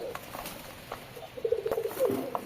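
A pigeon coos softly nearby in a few low, throaty bursts, with faint rustling around it.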